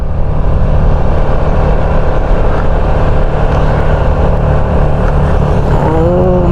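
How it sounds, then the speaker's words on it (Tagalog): A Vespa scooter engine labours under a heavy load of camping gear on the road to a rainforest campsite in Tanay, its steady loud drone running throughout with a rising whine near the end. "Nahirap yung motor ko ah."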